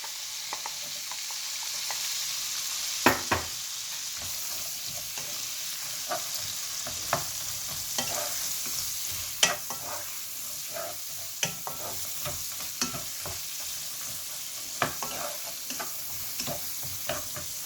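Shallots frying in shrimp-head oil for pad thai sauce: a steady close sizzle with occasional stirring clatters and ticks, no voices.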